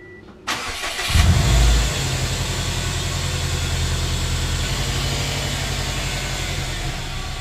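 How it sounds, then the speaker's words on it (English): A Subaru car engine fires up with a sharp rise and a brief rev, then settles into a steady, even idle that drones on close by. "Just letting the car idle right now."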